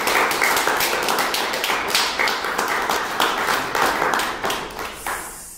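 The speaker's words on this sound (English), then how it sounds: "So let's applause again." An audience applauds after a musicology lecture, dense close clapping held at a steady level for several seconds before tapering off at the end.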